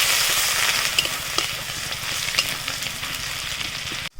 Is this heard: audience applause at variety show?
no